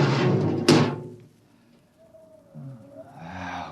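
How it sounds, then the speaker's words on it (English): A spaceship airlock opens as a radio drama sound effect: a heavy thunk, then a quiet hiss with a faint rising tone, while a voice speaks over it near the start and end. "Open the airlock."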